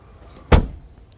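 A lid on a JAC E-JS1 electric car comes down with a single sharp thud, close by, followed by a quiet background with no talking.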